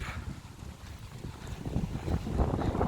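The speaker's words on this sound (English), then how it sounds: "It's very, very windy." Strong wind gusts buffet the microphone in a continuous low rumble that swells louder toward the end, with no voices.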